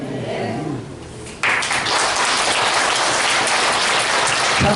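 An audience at a health lecture bursts into applause after a quieter stretch of murmuring, a sudden, dense wall of clapping that stays loud and steady to the end.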